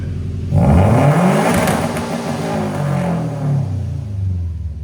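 The 2.5L turbo engine of a Subaru WRX STI, fitted with an aftermarket exhaust, revs hard toward redline, rising to a loud, close roar and then easing back down.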